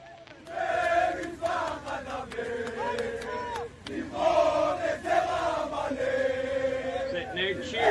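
A large crowd cheers and chants in unison, a loud dense roar of many voices with rhythmic shouted phrases rising and falling throughout.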